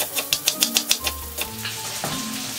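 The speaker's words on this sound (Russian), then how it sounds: "Пока овощи жарятся, я быстро нарежу свежий зеленый лук." A knife chops fresh green onions on a board in a quick, even run of about ten crisp taps, with a brief pause and a few more cuts, while vegetables fry softly in the background.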